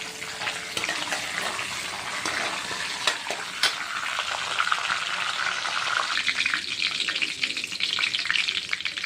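Cumin seeds and curry leaves roasting in a pan, a steady close crackling sizzle that grows slightly louder and busier toward the end, no speech.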